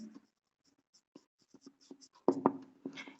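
Teacher writing on a classroom board, sparse scratchy strokes and taps that grow louder and quicker toward the end, in a quiet room with no talking.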